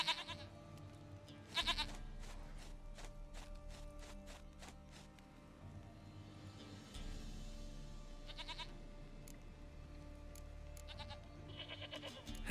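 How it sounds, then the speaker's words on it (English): A goat in The Witcher 3: Wild Hunt bleats in short repeated calls over a quiet game backdrop with soft ambient sounds. "Goat of mine, dearest, sweetest goat."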